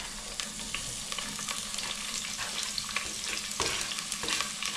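Onion goes into hot oil and fries with a loud, steady crackling sizzle up close, with small pops scattered through and no talking.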